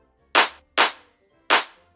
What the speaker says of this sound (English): Now he layers these two samples on top of each other, and it gives a really strong clap already.